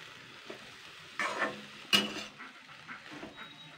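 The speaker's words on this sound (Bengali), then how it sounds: "এটাকে আমি এবারে নাড়াচাড়া করব মিডিয়াম আছে" Dheki shak fern greens with turmeric, salt and sugar are stirred in a pan over medium heat, giving a few quiet, scattered scrapes and a soft sizzle against an otherwise hushed background.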